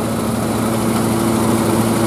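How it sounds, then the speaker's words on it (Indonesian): A motorcycle engine runs steadily close by, a continuous buzzing drone with a low hum underneath, loud and unbroken throughout. "Itu lah tuh motor lagi tuh."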